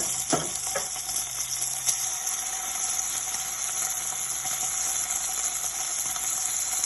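Onions with ginger and garlic paste fry in a pan, giving a soft, steady sizzle with a few faint clicks near the start and no talking.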